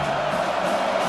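A stadium crowd roars behind the defense on third down in the EA Sports College Football video game, a loud, sustained wash of cheering and whooping.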